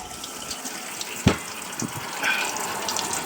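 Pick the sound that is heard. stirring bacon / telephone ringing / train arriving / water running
water running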